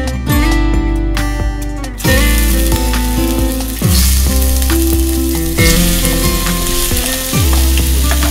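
A chicken wrap with Mexican four-cheese filling cooks in a skillet, loud dense sizzling that swells in repeated bursts, layered with bright ringing tones and sharp clatters.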